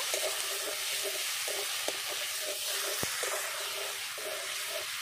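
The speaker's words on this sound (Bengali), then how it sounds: "এক চামচ ধনিয়া গুঁড়ো দিয়ে আমি ভালো করে মশলাটা কষিয়ে নেব" A spice paste with turmeric and a spoon of coriander powder fries in a pan, giving a steady close sizzle with occasional clicks of a spoon stirring.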